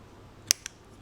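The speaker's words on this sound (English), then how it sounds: "just get the scissors and just clip" Scissors clip cloth for a Bandai 1/12 figure with one sharp close snip followed quickly by a smaller second click, both short and crisp against a quiet room.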